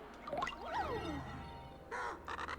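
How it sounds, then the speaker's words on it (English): Crows in Paper Mario TTYD Remake let out a few loud, harsh caws in quick succession, followed by a pause and then a second burst of raspy calls close by. "So she wants us to eavesdrop on some crows."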